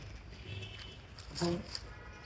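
A heron, one of the egret or heron kind, gives a single brief harmonic call at an abandoned old jail in Brahmanbaria, faint against a quiet background with low murmuring.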